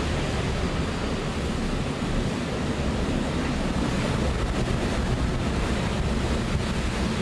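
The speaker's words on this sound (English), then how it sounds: "And those are the strongest wind gusts that we have seen, not just today, not just in this storm, but ever." Hurricane Michael's wind roars in strong, steady gusts, a loud broadband rush buffeting the microphone without a pause and with no voices.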